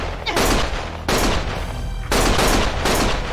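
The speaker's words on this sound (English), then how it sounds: "Stop shooting!" Gunfire in the action game Lost Judgment booms loud and close in three dense, sustained bursts separated by short gaps.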